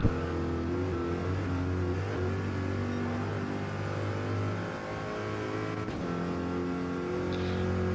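Gr.4 GTO race cars in the Gran Turismo video game at Road Atlanta, with a steady loud engine drone and sustained high revs from a chasing pack, no voices.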